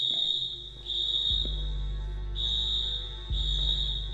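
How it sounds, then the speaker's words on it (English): A school fire alarm blares in Senior Sunset, a loud piercing high electronic tone with a low buzzing pulse, sounding in repeated on-off cycles with no talk. "We're just going through the school with the blaring fire alarm now."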